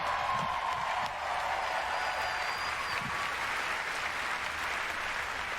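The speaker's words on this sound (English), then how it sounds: "Another round of applause." Steady applause from an audience at the Bethesda E3 2019 conference fills the space, continuous clapping from many hands at an even level without pause.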